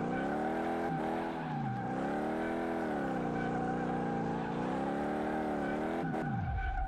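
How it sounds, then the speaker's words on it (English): A car engine revs continuously with wavering pitch as the car slides in the video game Drifting Simulator 2018, brief tire screeches cutting through near the start and end. "All this car does is slide, even when I'm on the straightaway."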